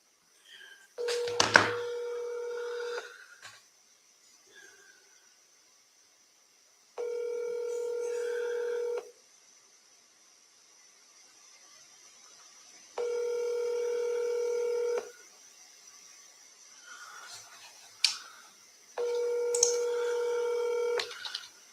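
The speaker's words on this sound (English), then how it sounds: "I'm going to call him from my cell phone." A cell phone places an outgoing call: a quick burst of dialing tones, then a steady ringback tone repeating in even on-off pulses several times, clear and close with no talk.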